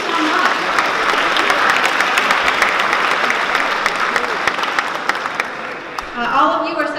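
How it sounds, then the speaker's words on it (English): A high school student assembly applauds in a dense, sustained wash of clapping for about six seconds, fading near the end as a voice begins speaking. "So give yourselves a round of applause for that."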